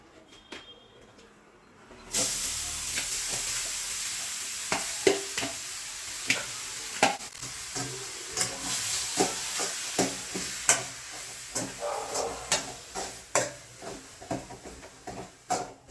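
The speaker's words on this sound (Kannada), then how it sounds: "ಈ ತುರ್ಕೊಂಡಿರೋದು ತೋತಾಪುರಿ ಕಾಯಿನ ತುರ್ಕೊಂಡಿದ್ದೀವಲ್ಲ, ಇದನ್ನು ಹಾಕಿ ಸ್ವಲ್ಪ ತುಪ್ಪದಲ್ಲಿ ಹುರ್ಕೋಬೇಕು." Grated Totapuri mango frying in ghee in a pan sizzles steadily after a quiet start, with repeated scraping and clacking spoon strokes as it is stirred, close and clear with no talk.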